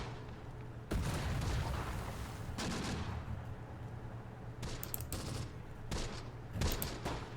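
A battle in the war game Close Combat: The Bloody First, with bursts of rifle and machine-gun fire and heavier booming shots over constant rumbling battle noise, in several loud clusters.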